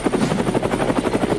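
Helicopter rotor chop, loud and steady, with fast rhythmic blade pulses and low engine rumble, close by with no talking.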